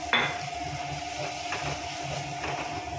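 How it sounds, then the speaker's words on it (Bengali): Egg curry stirred and frying in a pan, a steady close sizzle with a sharp utensil scrape near the start and a few softer clinks of a spoon against the pan; no talking. "এবার সামান্য নাড়াচাড়া করে নেব।"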